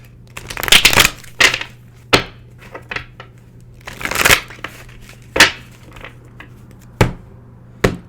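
Tarot cards are shuffled by hand in repeated crisp riffling bursts and sharp snaps spaced across several seconds, loud and close, with no speech.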